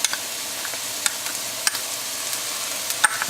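Tomato paste being stirred into sautéed vegetables in a pan, with a steady sizzle and scattered scraping clicks of the utensil against the pan.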